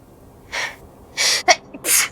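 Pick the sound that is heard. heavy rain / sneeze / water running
sneeze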